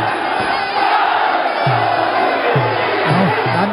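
A packed stadium crowd at a Muay Thai fight at Lumpini Stadium in Bangkok roars and cheers continuously, loud and dense, with a commentator's voice rising in bursts over the din.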